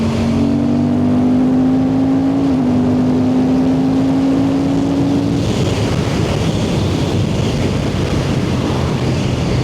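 A Suzuki GSX-8R motorcycle on the move: a loud, steady engine drone dips in pitch as it downshifts, then gives way to rushing wind noise while it cruises.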